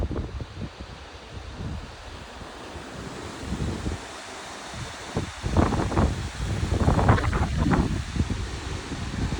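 Strong wind from a July 2025 dust storm in Chubbuck, Idaho buffets the microphone with a constant roar and rumble, rising in heavier gusts toward the end, with rustling mixed in.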